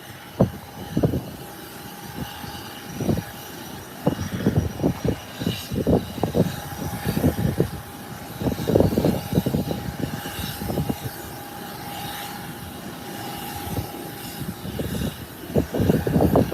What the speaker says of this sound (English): ATR 72 being pushed back.